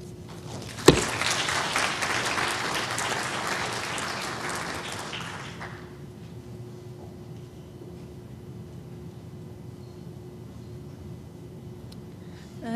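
Audience applause welcoming lecturer Dr. Carol Robinson: a sharp clap opens a dense burst of clapping that holds steady for about five seconds, then cuts off into a quiet room hum.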